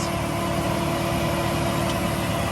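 A 1999 Plymouth Prowler's 3.5-liter 24-valve fuel-injected V6 idles close by with a steady, even hum and low rumble, unchanging throughout and without talk.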